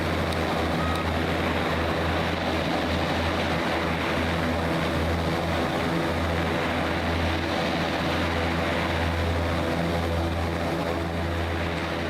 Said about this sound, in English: Oh, this is external power starting engines.